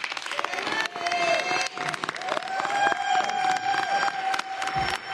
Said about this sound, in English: I'm all for claps now.